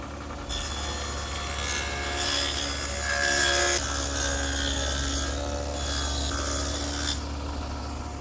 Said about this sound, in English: I've set up my table saw with the adjustable dado head cutter to be about 1/4 inch wide and 1/2 inch deep